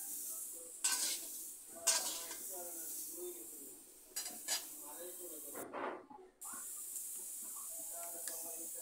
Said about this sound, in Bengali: আলু যেভাবে ভেজে নিয়েছি চাউমিনটা একইভাবে ভেজে নেব